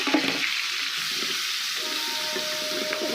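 Chopped onion fries in an oily wok that has just been used to fry prawns, producing a steady close sizzle and hiss that stays even throughout, with no talking.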